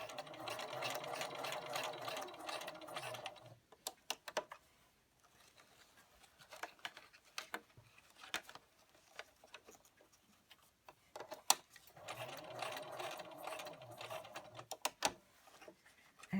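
A sewing machine stitches elastic into a waistband casing, running in steady rapid bursts at the start and end with quieter ticking and clicks between as the work is pivoted, close and fairly faint, with no talking.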